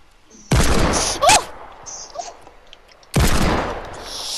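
Video game hand cannon firing, with two heavy booming shots a few seconds apart, each cracking loudly and then tailing off, and faint game sounds in between.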